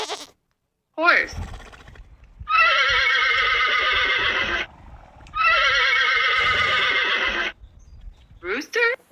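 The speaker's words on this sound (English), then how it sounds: "horse," Horse giving two long, loud whinnies a few seconds apart, each a quavering, high neigh, with short fragments of neighing at the edges and faint low rumbling underneath.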